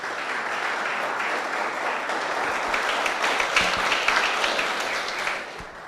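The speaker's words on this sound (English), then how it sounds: "Please give yourselves a round of applause." Participants and audience at the 2022 Sci-Tech Innovation Challenge closing ceremony give a round of applause, a thick, continuous clatter of many hands that swells slightly before fading out near the end.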